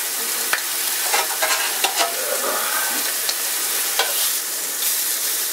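Cuban sandwich filling sizzles steadily in a cast iron pan, with a few sharp spatula scrapes and stirring clicks over a constant frying hiss, close and without talk.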